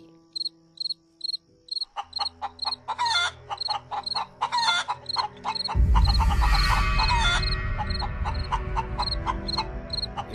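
Cartoon chicken farm noise: rhythmic, insect-like chirps pulse loudly alongside hen clucks and a rooster's crow, then a dense burst of rustling commotion fills the end.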